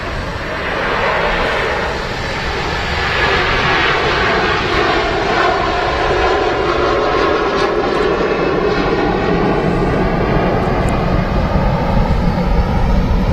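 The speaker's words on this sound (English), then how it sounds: "Real rumble from that Virgin 330-300, and that's off to JFK." Virgin Airbus A330-300 jet engines roar at Manchester Airport on the takeoff roll, a loud, continuous deep rumble with a shifting tonal whine that builds and holds for over ten seconds.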